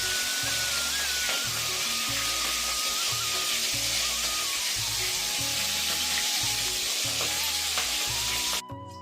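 Fish heads fry hard in hot oil, a dense continuous sizzle with sharp spattering pops throughout, loud and close, cutting off abruptly near the end.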